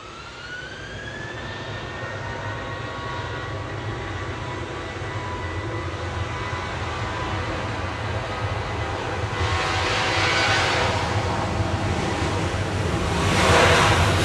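Ryanair Boeing 737-800 jet at Manchester Airport, a steady engine roar with a rising whine early on, growing louder toward the end as the jet nears.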